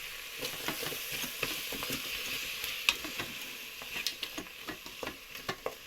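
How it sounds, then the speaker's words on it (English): Minced garlic hits a hot pan for chicken soup, a close sizzle with irregular scraping stir strokes and small taps over a steady frying hiss, no voices. "Now we're gonna add the garlic, the minced garlic."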